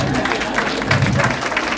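Applause and cheering from an audience at a stand-up comedy show in Kansas City, a dense, steady wash of clapping that fills the whole stretch at close range.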